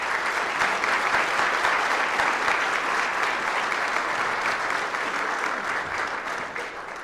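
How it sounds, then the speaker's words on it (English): An audience applauds at a city's State of the City address, producing a dense, continuous wash of clapping. It stays loud and steady throughout and tapers slightly toward the end, with no speech over it. "Let's give them one more round of applause."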